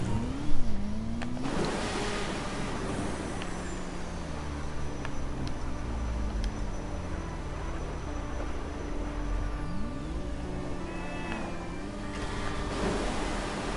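Motorcycle engine in a video game, revving up and down in repeated pitch sweeps while riding, a steady mid-range drone with occasional gear shifts and no talking.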